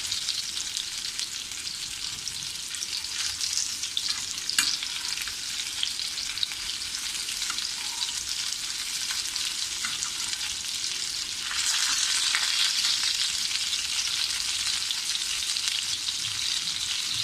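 Semolina-coated chicken pieces fry in a pan, giving a loud, continuous hiss and crackle with no talking. The sizzle swells a little louder toward the end.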